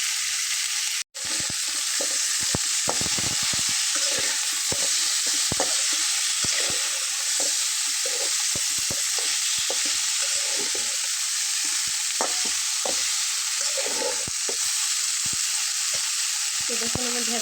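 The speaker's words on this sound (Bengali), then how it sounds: "এটাকে আমি 10 থেকে 15 মিনিট ভেজে নেব।" Okra (bhindi) fries in a pan in a Bengali home kitchen, a continuous, loud sizzle throughout with occasional stirring clinks and scrapes and no talking.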